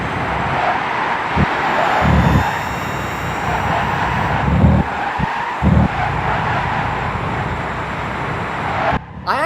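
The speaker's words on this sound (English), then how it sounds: "Take a listen to the Nissan Leaf driving full speed with the car collisions." Nissan Leaf in Gran Turismo 6 racing at full speed with a steady electric-motor and road drone, tire skids and several thudding collision impacts scattered through, loud and close, no talking.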